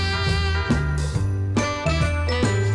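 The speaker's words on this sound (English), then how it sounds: "I also grabbed these bells from the Dollar Tree, and I'm going to use it to decorate over our banister." Dollar Tree Christmas bells meant for banister decor jingle in short, bright, ringing bursts, close and fairly loud, with tones sustaining between shakes.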